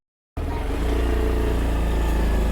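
A car engine starts after a brief silence and runs steadily with a loud, constant rumbling hum close by.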